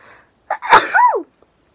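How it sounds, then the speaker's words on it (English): A single sharp sneeze, close and loud, with a quick intake of breath before it and a short falling exhale at the end. "I'm gonna sneeze."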